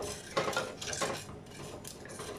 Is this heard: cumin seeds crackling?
yes